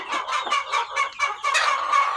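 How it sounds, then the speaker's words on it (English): Four roosters in a farm pen, rapid rhythmic clucking and gobbling-like calls from nearby birds, continuous and fairly loud with no talk. "This pen only has 4 roosters."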